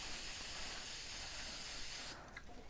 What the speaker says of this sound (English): I'm going to start moving the spray can before I push down on it